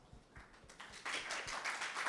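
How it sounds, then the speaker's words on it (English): An audience at a DeFi security summit giving a round of applause, starting as a few scattered claps and swelling into a fuller, sustained clapping from a crowd. "give yourself a round of applause"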